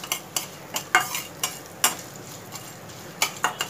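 A sautéed mixture with turmeric powder stirred in a pan, a spoon scraping and tapping the metal in about a dozen sharp, irregular strokes over a soft background sizzle.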